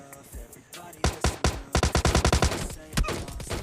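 Rapid video game gunfire rings out in quick bursts of sharp shots, loud and close, with a few isolated shots between the volleys.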